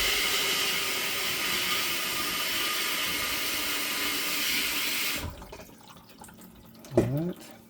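Water pours steadily from the cup rinse of a multi-function sink, a loud even hiss for about five seconds before it shuts off, leaving faint drips and a short voice sound.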